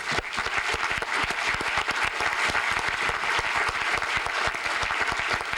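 Sustained applause from a seated audience at an awards event, honoring the Forum staff; dense steady clapping throughout, no voices standing out.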